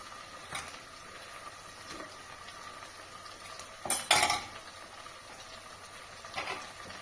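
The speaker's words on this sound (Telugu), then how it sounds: "ఇట్లా ఫ్రై అయిన తర్వాత దోసకాయ ముక్కలు వేద్దాం" Cucumber pieces being stirred into a frying pan, a quiet metal spoon scraping and clinking against the pan in a few brief bursts over a faint background sizzle.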